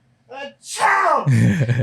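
A voice imitates a loud sneeze: a short breathy intake, then a sudden explosive shout-like burst that trails off.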